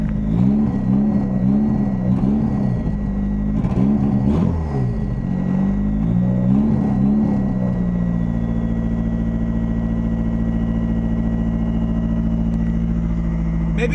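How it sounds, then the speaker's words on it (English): A car engine revs unevenly when the gas is pressed, the rising and falling pulses sounding strained and sluggish, then settles into a loud, steady drone for the rest of the clip. "also when I hit the gas, she's like suffocating, she's not going"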